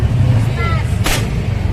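Firecracker test-fired at a shop in Carmen Planas, one sharp loud bang close by, with a brief burst of voices and traffic rumble around it.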